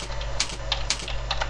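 Keys on a computer keyboard are tapped in a short, quick burst of close, crisp clicks over a faint steady hum.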